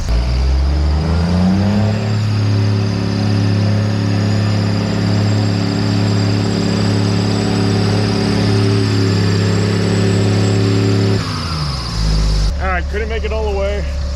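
A loud Oshkosh 7-ton truck engine on single tires labors steadily for several seconds climbing a steep, rain-wet dirt hill, its low drone holding as it pulls, then cuts off abruptly near the end.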